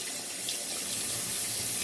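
Tap water runs steadily into a sink while sea moss is washed under it, a close, continuous hiss and splash with no speech.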